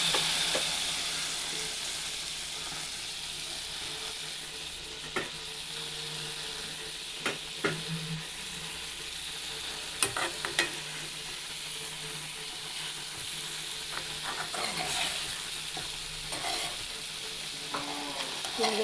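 Egg masala sizzles steadily in a pan on a gas stove as it fries, with soft continuous hissing broken by occasional scrapes and clinks of a spoon stirring.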